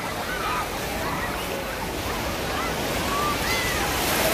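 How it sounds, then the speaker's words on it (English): Waves rolling and sloshing in a water park wave pool in Fresno on a hot day, a steady broad wash of water close by, with faint voices and shouts in the crowd. "Look at the waves."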